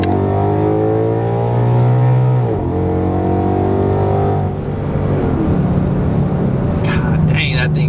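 A second-generation Mustang with a Pmas fenderwell intake pulls hard from a 50 mph roll, its engine note climbing loud and steady through the run before easing off near the end.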